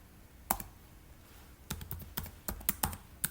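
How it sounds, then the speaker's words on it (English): A password is typed on a computer keyboard, a scattered run of quiet, close key clicks with a short pause after the first few presses, over faint room hiss. "entering the password of the user"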